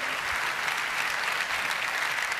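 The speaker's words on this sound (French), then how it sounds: "vous pouvez l'applaudir" An audience at the Nuit du Rugby 2019 awards ceremony gives sustained, dense applause, an even wash of many hands clapping at once with no break.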